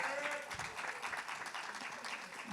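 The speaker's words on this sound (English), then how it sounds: "Can we get a round of applause for these young people?" Audience applause for young people at a youth mental health summit keynote, a steady wash of clapping from a crowd that holds through the whole stretch at moderate level.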